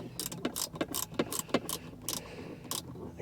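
A ratchet clicks in repeated short bursts, fairly close, while hex cap screws are tightened down on a console vault safe inside a 2018 Jeep Grand Cherokee.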